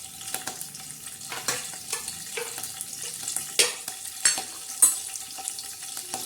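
Curry leaves crackling in hot oil for a tadka in a black urad dal dish, with sharp pops and bursts of spitting over a quiet sizzle, no voices.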